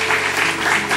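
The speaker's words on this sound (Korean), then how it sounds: "다시 한번 감사의 박수를 올려드렸으면 좋겠습니다." A short burst of congregational clapping in a church service, a dense, fairly loud patter of many hands lasting about a second, with a faint steady hum beneath.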